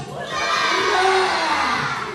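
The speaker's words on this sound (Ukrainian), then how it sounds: "штрафний і наші кричать" A hall full of children shouting and cheering loudly together during a staged football match at a club's concert, a sustained burst of excited voices lasting about two seconds.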